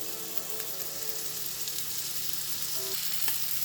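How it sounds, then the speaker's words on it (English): A steak sears in a hot pan with a steady, close sizzle and faint crackling pops throughout, and no talking. "We want to get a really good sear on this."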